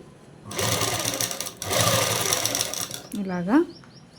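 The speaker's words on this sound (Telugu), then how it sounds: "ఈ కుట్టు వేసుకునేటప్పుడు జాగ్రత్తగా వేసుకోవాలండి. ఇలా లాగి ఎలాస్టిక్ మీద పడకుండా చూసుకొని వేసుకోవాలి." An electric sewing machine stitching fabric along an elastic band for a dress runs in two loud, fast whirring bursts with a short pause between them, followed by a brief voice.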